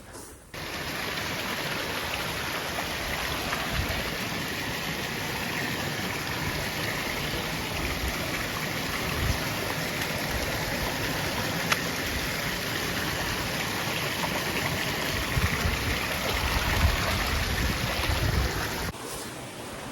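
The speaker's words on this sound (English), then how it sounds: "hear a river flowing" Steady broadband water rush of a river flowing beside a boggy marsh on Dartmoor, continuous and fairly close for the whole stretch, with faint wind mixed in and no talking.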